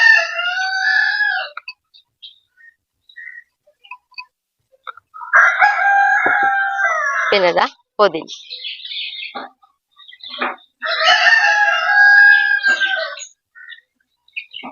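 Roosters crow in long drawn-out calls, three loud, clear bursts separated by quiet gaps, with a few faint chirps between, while a voice speaks briefly during egg biryani preparation.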